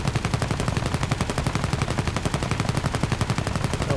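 Rapid, continuous machine-gun fire from the guns of a C.R.42 fighter plane in War Thunder air combat, a dense, loud rattle of shots sustained for the full stretch without pause.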